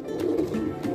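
A pigeon coos in a park, a low, soft, continuous throaty warble over one second, fairly close and alone with no voices.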